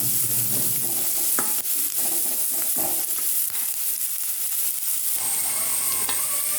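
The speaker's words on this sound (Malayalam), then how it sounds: "ഇപ്പം ഞാൻ ഹൈ ഫ്ലെയിമിലാണ് ഇതിട്ട് ഇളക്കി കൊടുക്കുന്നത്." Carrots stir-fry over a high flame, making a loud, continuous sizzle and hiss close by, broken by occasional clicks and scrapes of a spatula stirring the pan, with no voices.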